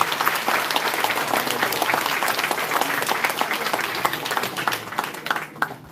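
A hall full of party members at a political rally bursts into warm applause, dense and sustained clapping that carries for several seconds before thinning out near the end.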